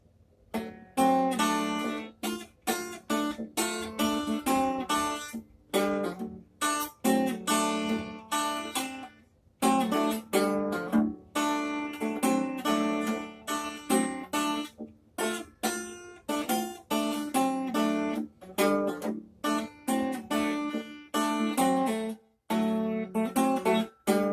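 A down-tuned guitar plays a song verse, strummed chords in rhythmic bursts with brief pauses, clear and close with no voice.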